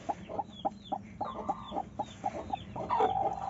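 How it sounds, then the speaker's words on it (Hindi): A laying hen clucks in repeated short calls, close and fairly loud, with other chicken sounds and chirps around it and a longer squawk near the end. "तो ये रही अंडों वाली मुर्गी"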